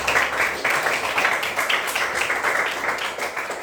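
A classroom of young children bursts into loud, sustained applause, many small hands clapping in a busy, uneven patter that stays strong throughout.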